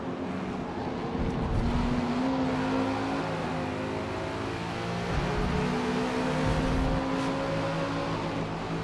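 A flat-plane crank Voodoo V8 in a racing video game revs and drones continuously, its engine pitch rising and falling through gear changes at a steady moderate loudness.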